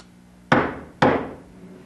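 Two loud, sharp knocks on a door, evenly spaced about half a second apart, each ringing out briefly in an otherwise quiet room.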